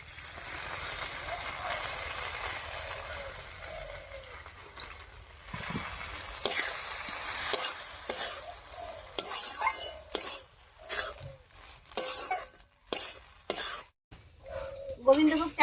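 Papaya curry being stirred with Gobindobhog rice paste in a pan, scraping strokes and a soft sizzle in bursts that grow louder and more irregular toward the end, with birds cooing faintly in the background.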